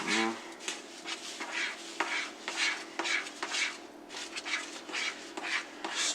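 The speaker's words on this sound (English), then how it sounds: "Stir this up real nice." A thick batter of breadcrumbs, flour and egg is stirred in a bowl, a steady scraping and swishing that repeats in a soft, continuous rhythm at close range, with no voices.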